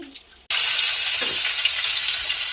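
Thai garlic hits hot pork lard with a sudden loud sizzle that jumps in after a quiet half second and then holds as a dense, steady frying hiss.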